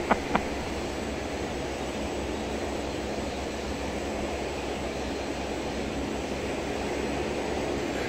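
Steady broadband engine roar of a Dash 8 turboprop sitting on its belly after a gear-up landing in a flight simulator game, a couple of brief clicks at the start, then an even, unbroken drone throughout.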